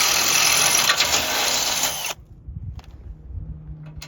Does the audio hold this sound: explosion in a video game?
no